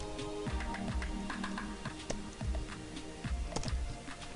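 Someone types a server name on a computer keyboard during a Windows Server 2016 setup, producing a steady run of close, crisp key clicks with a few heavier taps and no talking.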